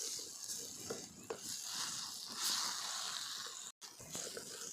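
Ridge gourd chutney with salt and spices stirred in a pan: a faint, steady sizzle with soft scraping strokes of a spoon, broken by a brief silent gap near the end.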